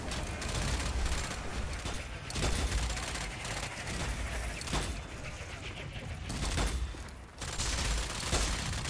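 Rapid gunfire bursts from weapons in the shooter Strange Brigade, loud and continuous with mechanical clacks mixed in, and no talk over it.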